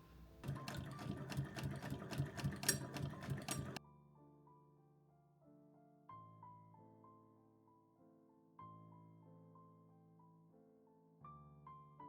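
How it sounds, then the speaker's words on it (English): A sewing machine stitches around the edges of fabric pieces for a soup bowl cozy, a fast steady mechanical whirring for a few seconds that stops abruptly, followed by soft background music. "sew around the edges, being sure to leave a space to flip inside out"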